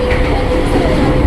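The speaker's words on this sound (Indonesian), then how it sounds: "ini dia nih KRL tujuan Bogor keberangkatan stasiun" A KRL commuter train bound for Bogor rumbles at Depok station, a loud close low roar of wheels and motors on the rails with a faint tonal whine, no voices.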